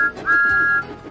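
A cartoon tank engine's whistle sounds as one sustained, steady high tone lasting about half a second, clear and fairly loud, with a brief softer note just before it.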